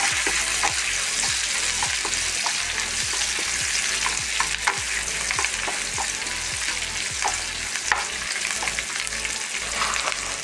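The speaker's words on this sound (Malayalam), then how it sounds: "ഇഞ്ചിയും വെളുത്തുള്ളിയും ചതച്ചത് വേപ്പില നന്നായി വഴച്ച" Crushed ginger, garlic and curry leaves sautéing in a hot pan for a fried anchovy dish, a loud continuous sizzle with regular scraping stirs of a spatula about twice a second, close up, with no talking.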